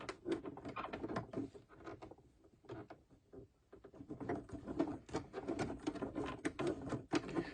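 A sewing machine stitching a button onto fabric for a scrub cap, rapid rattling needle strokes that pause briefly midway and then resume steadily, faint and close.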